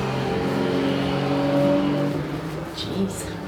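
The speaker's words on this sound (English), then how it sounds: "somebody likes them trucks loud" A loud truck passes outside, its engine drone heard indoors as a steady, heavy rumble that swells and then eases off over a few seconds.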